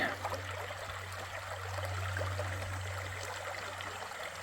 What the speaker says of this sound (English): First bigger stream crossing of the day.